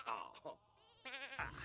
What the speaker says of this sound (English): It looks so funny to me when they milk the goats because they're so tiny.